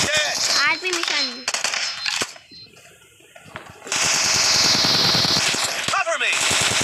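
Gunfire in the mobile battle royale game BGMI, with loud bursts of automatic weapon fire and sharp shots filling most of the stretch, a brief quieter gap in the middle, and a voice talking over parts of it.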